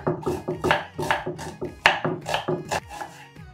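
A knife chops food on a board during home cooking of a school lunch, with a steady run of about a dozen sharp, close cuts at a brisk, slightly uneven rhythm, and no talking.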